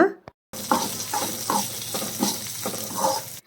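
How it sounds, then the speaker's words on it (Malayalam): Ginger and green chilies sautéed in a pan with mustard seeds, garlic and curry leaves for mushroom pickle, a steady sizzle with about five rhythmic scraping stirs, close and fairly loud, no talking. "ഇഞ്ചി പച്ചമുളക് എന്നിവ ചേർത്ത് നന്നായി വഴറ്റി കൊടുക്കാം"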